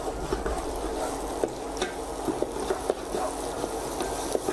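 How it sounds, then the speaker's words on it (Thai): Bird's eye chilies and dried chilies for holy basil sauce are stir-fried in a pan, with a steady loud sizzle and irregular scraping knocks of the spatula, and no talking. "ผัดให้หอมนะครับแล้วก็ขึ้นสีนิดหน่อย"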